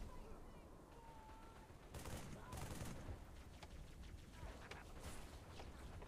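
Rapid bursts of gunfire from the Halo 3 video game crackle in a dense fusillade, loud and continuous with machine-gun chatter over game ambience.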